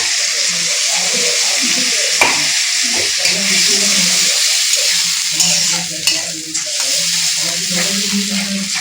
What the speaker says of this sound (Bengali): এখন মশলাটা একটু হালকা ভাজা হোক